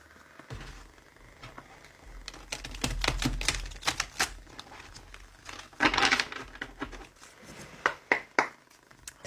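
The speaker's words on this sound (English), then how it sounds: "Right, we'll do one more shuffle for good measure." Tarot cards are shuffled by hand in close, quiet bursts of irregular riffling, clicking and rustling.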